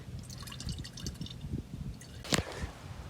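RV antifreeze drains from a camper's plumbing during winterizing, a faint irregular trickle and drip with small splashes and one louder splash, quiet and close.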